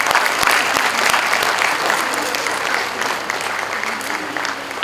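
Big, steady round of applause from an audience at a college NAAC celebration, dense clapping filling the room for about five seconds with no talk over it.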